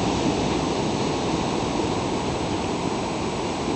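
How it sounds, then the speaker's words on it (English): Steady, dense wash of ocean waves with no distinct breaks, loud and continuous throughout, alone without voices. "The ocean waves."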